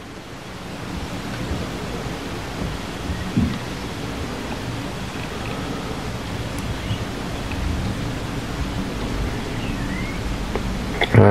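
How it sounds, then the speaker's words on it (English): Steady heavy rain during a thunderstorm in Bradford, UK, hisses in a dense, even wash of noise, with a few faint knocks and no talking. "Now the rain is coming down fairly fast."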